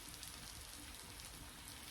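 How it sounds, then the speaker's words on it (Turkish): Rain falls steadily on a garden in the morning, a faint, even patter with no other sounds. "Yağmur başladı yağmaya sabahleyin."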